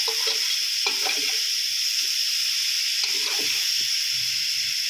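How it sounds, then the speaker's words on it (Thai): Vegetables, shiitake mushrooms and marinated pork stir-fried for yellow soba noodles, a continuous close hissing sizzle with intermittent scraping stir strokes, no talk. "ผัดคลุกเคล้าให้ทั่วนะครับเพื่อน"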